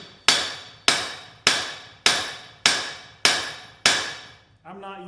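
A 6.5-pound forging hammer swung and striking metal, seven loud sharp ringing blows at a steady rhythm about every 0.6 seconds, each decaying before the next, with a faint tonal ring at the end.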